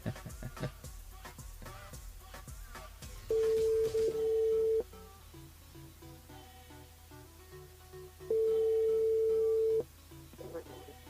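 Outgoing phone call on a French live radio broadcast: two long, loud steady ringback tones, each lasting about one and a half seconds and separated by a pause, with studio background sound between them.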